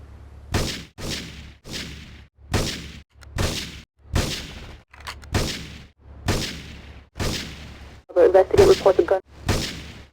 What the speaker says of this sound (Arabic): اول ما اطلق الطلقة الاولى راح يدخل 8-Ball